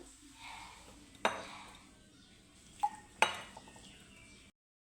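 Flour and salt being mixed into a sticky paste on a plate, heard as quiet scraping with three sharp clinks of utensil on plate, close and fairly soft.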